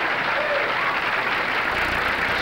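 A crowd at a 1989 professional bowling tournament applauds, a dense and steady wash of clapping that holds at an even level throughout.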